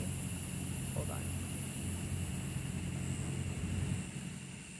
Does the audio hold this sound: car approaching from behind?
yes